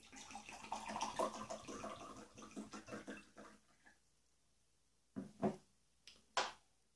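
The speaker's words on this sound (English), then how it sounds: "I'm going to pour myself a nightcap" A nightcap is poured into a glass, a gurgling liquid stream running for a few seconds and then trailing off, followed by a couple of quiet separate splashes or clinks, all fairly faint.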